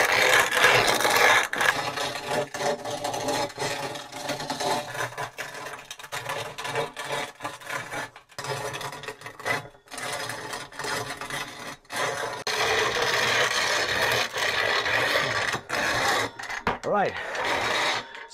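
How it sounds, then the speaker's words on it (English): Acorns are ground in a hand grinder, giving a continuous rasping, scraping churn with irregular gritty crunches and short pauses, close and moderately loud. "Then I just start grinding them."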